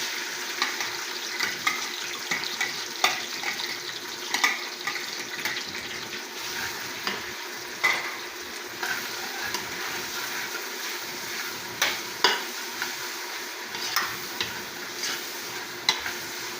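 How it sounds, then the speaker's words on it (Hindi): About one and a half pounds of chopped onion frying in a cup of hot oil, with a soft continuous sizzle and scattered stirring clinks and scrapes from a utensil, moderately quiet and close. "प्याज को हमने ब्राउन होने के लिए छोड़ दिया है"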